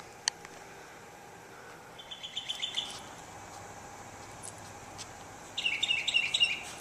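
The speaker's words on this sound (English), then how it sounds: "The birds are up already." A few faint, high chirps from a single bird in a quiet outdoor setting, with brief bursts near the start, middle, and end.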